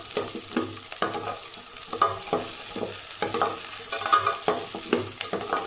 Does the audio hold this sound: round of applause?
no